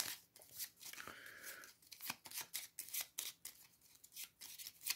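Weapon cards for a Bonnie & Clyde solo board game are shuffled by hand: repeated rapid riffling and scraping bursts of card stock, close and fairly quiet, with short gaps between passes and no talking.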